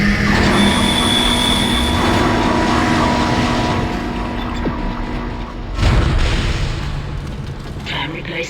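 In the sci-fi horror game Dead Space, a tram pulls in with a loud, steady rail rumble and high metallic squeals, then a heavy thud as it stops, followed by a quieter mechanical hum.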